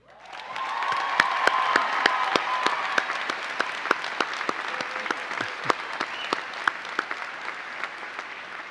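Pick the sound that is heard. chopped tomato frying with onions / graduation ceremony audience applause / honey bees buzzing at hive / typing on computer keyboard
graduation ceremony audience applause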